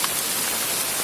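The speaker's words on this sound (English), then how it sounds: "Now it is absolutely smashing down with hail." Hail pounds down hard during a mountain thunderstorm on the Continental Divide Trail, a dense, steady hiss of impacts with no break, close and loud around the listener.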